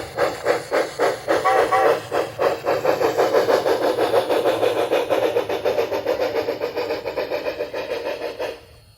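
An HO scale model locomotive runs steadily on track, producing a continuous mechanical hum with rapid rhythmic clicking and a faint hiss that fades slightly toward the end, with no talking.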